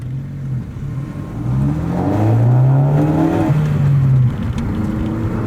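A 2018 Ford Focus ST launches from the start line on a race track, its engine revving loud and close and climbing through the gears, pitch rising then dropping at a shift, with no talk over it.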